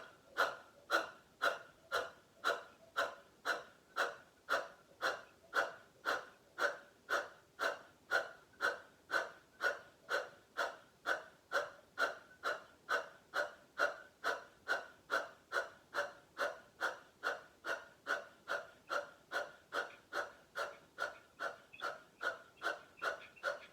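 Rapid, sharp rhythmic exhales of a yoga breathing exercise, the belly snapping in on each breath, repeating steadily and evenly about twice per second for the whole stretch, close and alone with no talking.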